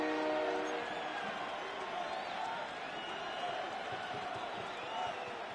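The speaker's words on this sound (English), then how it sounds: "This crowd into it now as we get to 3rd down." Stadium crowd in a Madden football video game, a steady wash of cheering and murmur rising for third down, with a commentator talking over it.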